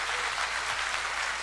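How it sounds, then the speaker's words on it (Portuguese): A church congregation applauds in a continuous, dense roar of many hands clapping at once, loud and even throughout the short stretch. "Se você quiser aplaudir, pode aplaudir mesmo."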